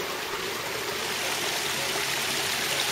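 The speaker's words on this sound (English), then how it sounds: "Waterfalls." Water trickles and splashes steadily down a small waterfall in a roadside ditch, a continuous close stream-like rush with no voices.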